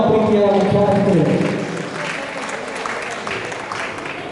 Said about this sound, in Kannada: ಜೋರಾದ ಚಪ್ಪಾಳೆ ಬರಲಿ ಎಲ್ಲ ನಮ್ಮ ಪ್ರೀತಿಯ ಮುಖ್ಯ ಅತಿಥಿಗಳು